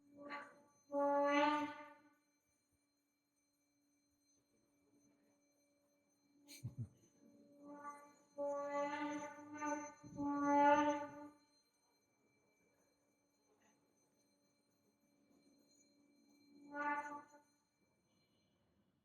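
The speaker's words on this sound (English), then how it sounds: "He's blowing the conch." Conch shell blown at a devotional kirtan gathering during a Kartika pilgrimage, sounding several loud, droning blasts separated by quiet gaps, close and clear with no voices over it.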